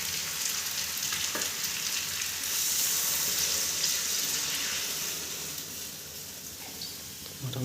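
Water pours into a pan of fried chicken pieces for curry on a night cooking fire, a continuous hissing sizzle and splashing rush that swells and then settles, with no voices.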